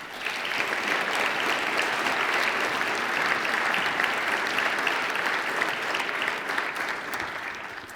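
Steady, dense audience applause welcoming lecturer Lucile Montagne at an exhibition lecture on contemporary tapestry, sustained and fairly loud throughout with no break or voices.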